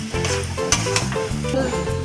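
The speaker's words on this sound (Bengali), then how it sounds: "দিয়ে এবার ভালো করে কষাবো, ভালো করে কষিয়ে নেবো এখন এবার কিছুক্ষণ।" Chicken sautéing in a pan with chili powder, salt and a little sugar, sizzling briskly while being stirred, with several short scraping strokes.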